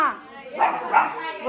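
A dog in a village gives a couple of short, close barks, with voices nearby.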